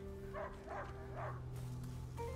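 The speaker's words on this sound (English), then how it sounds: "めっちゃ吠えてるな。" A dog barks in the video game A Plague Tale: Innocence, three quick barks in a row, then a fainter one after a pause, over a low steady game ambience.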